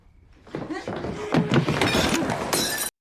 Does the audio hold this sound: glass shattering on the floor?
yes